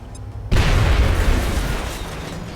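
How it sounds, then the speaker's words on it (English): A grenade detonates in XCOM: Enemy Within, a sudden loud blast that opens into a long rumbling roar and slowly fades, alone without talk. "Throwing grenade."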